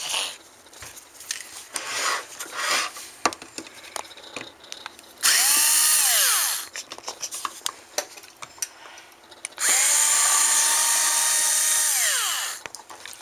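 A power drill backing screws out of a hard drive while taking it apart, in two long, loud, close whirring bursts, with light clinks and handling noises between them.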